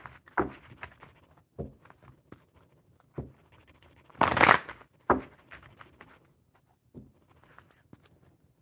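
A deck of cards being shuffled at a table during a casual chat, with soft riffling patter and a loud, dense riffle burst near the middle amid lighter taps and card handling.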